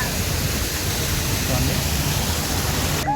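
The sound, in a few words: artificial waterfall splashing into a channel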